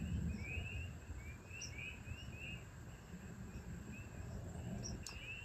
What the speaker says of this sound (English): It's like this cyclic chirping.